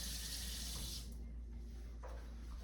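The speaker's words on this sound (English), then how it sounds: "Water goes in." Cold tap water pours into a pot of rice in a kitchen, a steady close rushing stream lasting about a second before it cuts off, leaving quiet room tone.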